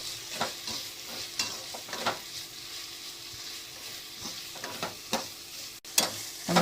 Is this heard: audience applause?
no